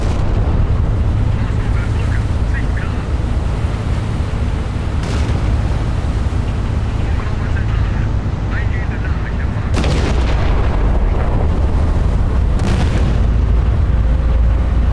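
Naval gunfire in the game Battleship Command comes as dull, heavy booms over constant loud rumbling battle noise. Several thuds land at irregular intervals, with a voice talking over the din.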